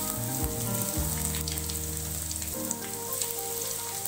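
Curry leaves and crushed garlic fry in hot oil for a tomato thokku, giving a loud, steady, close sizzle with a faint tonal hum underneath and no voices.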